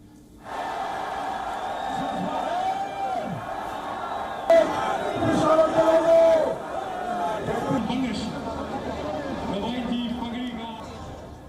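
A large crowd roars and chants at an Imran Khan political rally in Pakistan, a dense, steady wall of many voices with rising shouts, heard from within the gathering.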